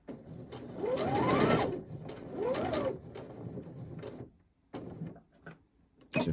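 A sewing machine stitches fabric for men's boxer shorts in several short runs of rapid needle chatter, close and clear, separated by quiet gaps.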